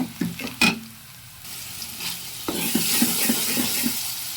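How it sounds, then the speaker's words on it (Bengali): Spices fry in a pan as they are stirred, a few sharp clanks of the utensil early on, then a steady sizzle with soft scraping strokes. "এখন রান্না করব। এখন আমি এখানে আস্তে আস্তে সব মশলাগুলো দিব।"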